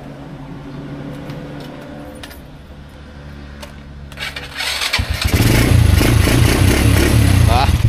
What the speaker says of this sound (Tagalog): magbumotor lang kami kasi hanggang dito lang yung sasakyan